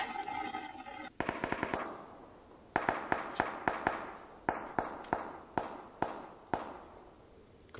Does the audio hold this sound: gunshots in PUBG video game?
yes